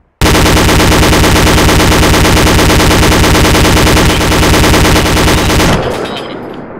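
ArmA 2 video game gunfire: a loud, sustained burst of rapid automatic machine-gun fire rattling continuously for several seconds before cutting off into a fading echo.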